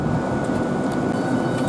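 A train departs Thanet Parkway station bound for London St Pancras, a loud, close, continuous rumble of wheels and motors filling the short moment.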